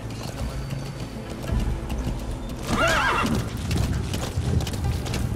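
A horse's hooves clip-clop rapidly as it gallops in Metal Gear Solid V, with a sharp neigh in the middle over background game ambience.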